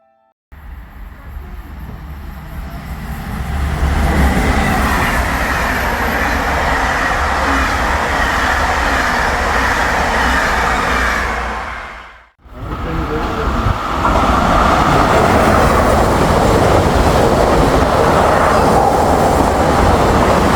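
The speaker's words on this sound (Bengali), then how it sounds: "উঠে পড়েছি ট্রেনে আর লোকাল ট্রেনের কি স্পিড দেখলেন" A local train rumbles loudly and steadily along the rails, dipping into a brief hush partway through before the roar returns.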